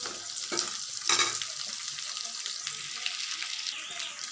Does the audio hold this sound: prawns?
yes